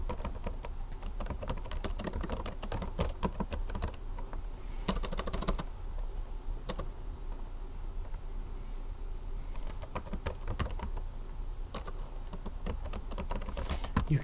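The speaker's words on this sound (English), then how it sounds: "You can type into here." Steady typing on a computer keyboard, a continuous close patter of key clicks with brief bursts and small pauses, quiet and without voices.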